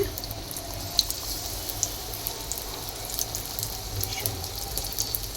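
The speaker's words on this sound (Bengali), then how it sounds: "এটা লোহার কড়াইয়ের মধ্যে ভেজে নেওয়া হচ্ছে বেগুনিগুলোকে" Beguni, eggplant slices in a batter of besan, turmeric, chili powder and pink salt, deep-fry in an iron wok with a continuous soft bubbling hiss and a low background hum.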